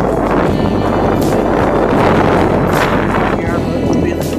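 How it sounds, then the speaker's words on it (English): Steady, loud wind buffeting the microphone during a bike ride, a continuous broadband rush with low rumble that lasts throughout without pause. "Here I'm really feeling the wind on my face and everything else."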